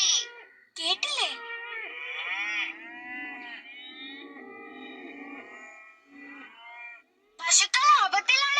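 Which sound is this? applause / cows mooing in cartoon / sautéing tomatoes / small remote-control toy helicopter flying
cows mooing in cartoon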